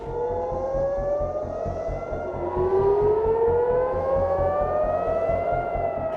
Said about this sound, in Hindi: इजराइल का तेल अवीव सायरन की आवाजों से गूंज उठा